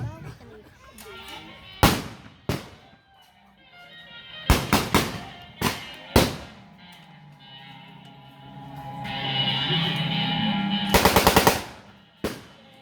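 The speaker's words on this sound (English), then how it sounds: "That weapon firing was the U.S. BAR, Browning Automatic Rifle." A U.S. BAR Browning Automatic Rifle fires at a war reenactment, cracking out sharp single shots and short bursts, including one rapid burst near the end, over an engine-like drone and distant battlefield bangs.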